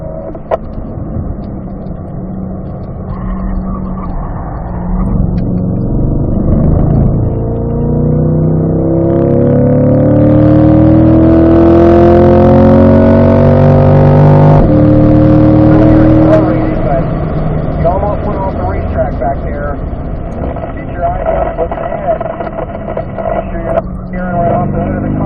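A race car engine revving on a track, working in third gear through a corner, its pitch rising and falling across the lap under steady coaching speech from a driver.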